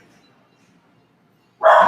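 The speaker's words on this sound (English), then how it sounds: "I got a dog barking" A dog at home lets out a single sharp bark after near silence, close and loud at the very end.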